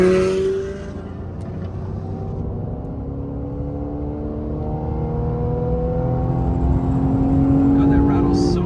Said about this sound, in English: Dude, those Z06s sound amazing.